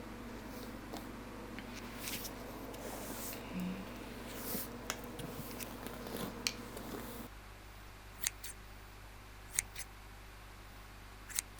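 Scissors snipping hair during a salon-style haircut, quiet close crisp snips coming in irregular bursts, busier early on, then sparse isolated cuts over a hushed background.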